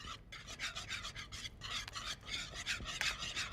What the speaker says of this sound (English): and really whisking constantly